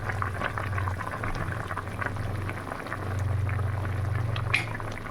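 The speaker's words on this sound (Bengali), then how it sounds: "আর এদিকে দেখো মাছের তরকারি ফুটছে" A pot of fish curry bubbles and simmers steadily at close range, with a low boiling rumble and soft popping throughout.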